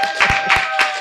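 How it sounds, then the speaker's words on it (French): An audience claps for a young girl, three sharp broadband bursts in quick succession over a steady humming tone, close and fairly loud. "On va l'applaudir parce qu'elle est vigilante."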